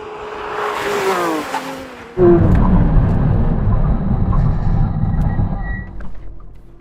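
A Porsche 911 brakes hard from 100 mph on a test strip, a loud engine note falling away before a sudden louder burst of tyre and road roar that holds steady, then tapers near the end.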